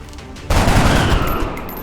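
A soldier fires in the video game XCOM: Enemy Within (Long War mod): after a short quiet lead-in, a loud burst of gunfire erupts and roars on as a dense, rumbling volley for over a second.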